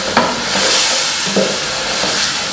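Ground spices for beef haleem frying in a pot with a constant sizzling hiss, a few soft scrapes from stirring rising over it.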